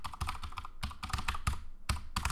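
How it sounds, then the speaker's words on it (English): Keystrokes on a computer keyboard while text is entered for a watermark on artwork, clustered bursts of close, crisp clicks with short pauses between groups and no talking. "Then I type in what I want to type."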